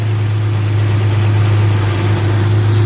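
A Nissan Xterra engine idles with a misfire, a steady loud low rumble with slight uneven shaking, continuous and close, with no talking.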